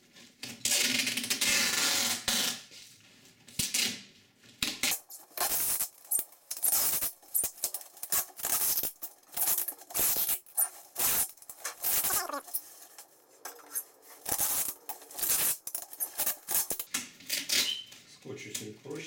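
Adhesive tape pulled off the roll and wrapped around an ordinary cardboard box, a string of sharp ripping and crackling bursts with sticky rustles in between, close and fairly loud.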